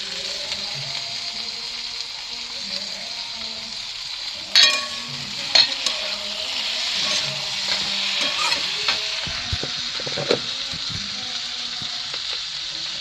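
Beans sizzle steadily in a hot pan after tomato goes in, with a few sharp clacks and scrapes of a spoon stirring through the middle stretch.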